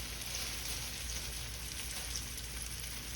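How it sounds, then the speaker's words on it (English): Turkey tails sear in a hot pan, giving a soft, steady sizzle and crackle that runs evenly throughout, fairly faint and without any talking. "just get a nice good sear on them. Golden brown sear on them."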